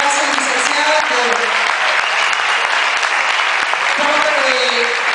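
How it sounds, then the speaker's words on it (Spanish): Dense audience applause fills a university hall, a steady loud wash of clapping with a few voices and whistles rising over it. "Pido un fuerte aplauso"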